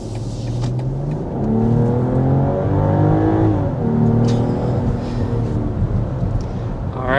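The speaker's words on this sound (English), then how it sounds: "we're going to go ahead and start with a hard acceleration." A 2025 BMW X7 luxury SUV under hard acceleration, its engine note rising steadily through the gears as a smooth, sustained whir heard from inside the cabin, loud and continuous with no talk.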